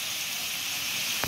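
Pieces of chicken fry in a pan, a steady close hiss of sizzling oil with no talk, ending in a brief bright spike.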